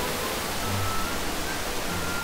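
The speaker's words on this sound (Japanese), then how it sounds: "ここが比里の滝です。" Hiryu waterfall in Hakone, a steady broadband rush of falling water, close and continuous with no voices.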